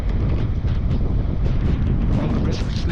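Heavy wind roars during a blizzard, a dense, unbroken low rumble pressing hard against the microphone and staying loud and steady throughout.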